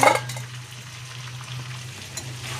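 Meat and potatoes sizzle steadily in a kadai, a close, continuous frying hiss with faint stirring and no voices.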